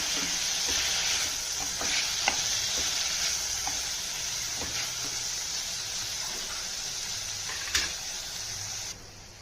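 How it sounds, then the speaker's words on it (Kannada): Tomatoes sizzle steadily in a hot pan, a close continuous frying hiss broken by occasional clicks and scrapes of a stirring spoon, fading at the end. "ಟೊಮೆಟೊ ಹಾಕ್ಬಿಟ್ಟು ಚೆನ್ನಾಗಿ ಮಿಕ್ಸ್ ಮಾಡ್ತೀನಿ"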